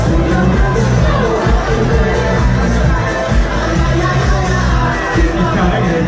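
Crowd noise at an evening Notte Bianca street event in Presezzo, a dense, continuous roar of cheering and yelling with scattered whoops, loud and sustained throughout.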